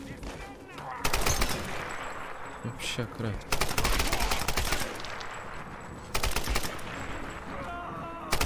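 Rapid automatic gunfire crackles in the video game Tomb Raider, several loud bursts of shots separated by brief pauses, while a player talks in Polish over the action.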